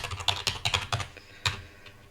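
Quick, uneven clicking of keys on an Italian computer keyboard, a close burst of typing that slows and stops after a couple of seconds, heard without talk.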